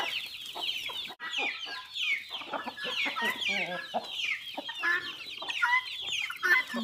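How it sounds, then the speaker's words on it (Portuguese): Farm chickens cluck busily as corn is scattered for them at feeding time, with many overlapping clucks and squawks close by and no talking. "Tava colocando comida pras galinhas."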